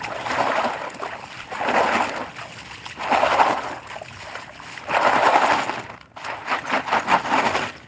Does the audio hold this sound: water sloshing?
yes